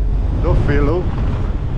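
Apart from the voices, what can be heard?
strong wind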